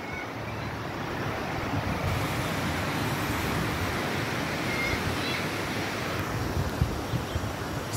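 A river running hard fills the scene with a dense, steady roar of rushing water along a trail-running route near Manizales, loud and unbroken throughout, with no voices.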